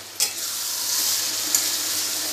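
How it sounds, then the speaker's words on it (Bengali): Mutton with ground spices sizzles steadily in a pan for a spicy mutton and potato curry, a close, continuous hiss with a couple of brief stirring scrapes. "এবার এটা দিয়ে আর একটু ভালো করে কষিয়ে নেব।"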